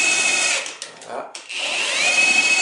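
A Bosch GDS 18V-1000 C cordless impact wrench runs in a loud steady high whine, briefly dipping and stuttering near the middle before spinning back up, with no hammering percussion.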